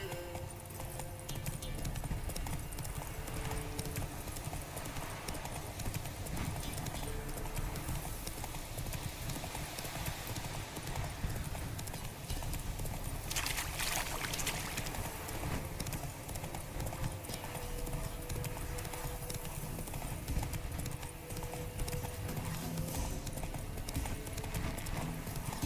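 Rhythmic hoofbeats of the horse Roach galloping in The Witcher 3, a steady clip-clop cadence running continuously for about twenty-five seconds with the occasional snort or whinny over outdoor ambience.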